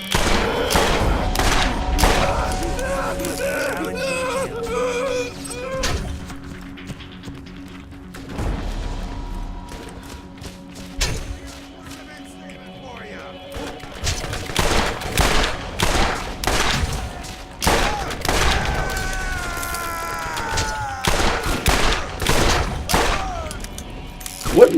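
Rapid bursts of gunfire from Borderlands 1 (Tediore weapons) while shooting enemies, with sharp repeated shots, mechanical clicks and crashes coming in clusters, loud and close throughout.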